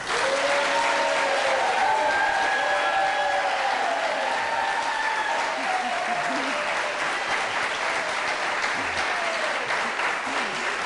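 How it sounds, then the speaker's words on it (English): A studio audience at a New York 25th district debate applauds to welcome the candidates, a broad, even wash of clapping that holds steady throughout, with faint speech underneath. "We've asked them to hold their applause throughout the debate, except for now, as we welcome the candidates"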